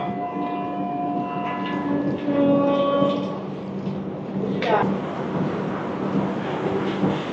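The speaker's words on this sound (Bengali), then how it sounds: "সিগন্যাল হয়ে গেছে, এবার ট্রেন ছেড়ে দেবে।" The 18447 Hirakhand Express sits at a signal on a hilly, rainy route, its low rumble steady while tonal squeals and hums rise and fade, and a sharp sliding screech cuts in midway.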